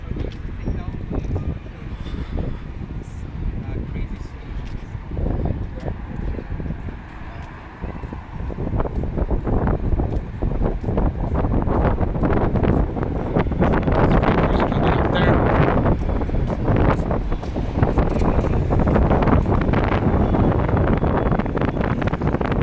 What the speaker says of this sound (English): Wind's picking up. I think the camera probably is going to catch that.